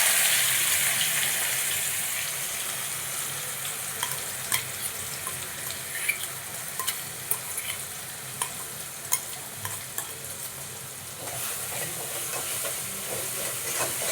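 A green chilli and garlic paste fries in a pan with a steady, loud, close sizzle and hiss, broken by light scraping and stirring clicks, with no voices over it.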